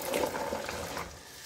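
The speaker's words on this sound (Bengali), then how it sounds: "যে সেদ্ধ মটরটা ছিল এটা ঢেলে দিই এর মধ্যে। জল শুদ্ধ?" Boiled peas and their cooking water are poured into a pan of spice mix for ghugni, a brief liquid splash and gurgle heard quietly up close that fades out within about a second and a half.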